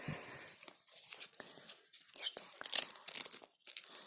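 A small plastic packet is torn open close up, with crinkly ripping and rustling in short bursts that grow sharper toward the end, and a few quiet words spoken in between.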